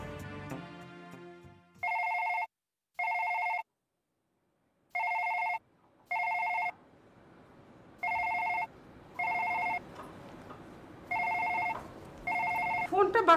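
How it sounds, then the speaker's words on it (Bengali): A telephone rings in a domestic drama scene, with repeated pairs of electronic bell bursts in a regular rhythm, clear and fairly loud, while room noise and murmuring rise underneath toward the end. "ফোনটা বাজছে, ধরছো না কেন?"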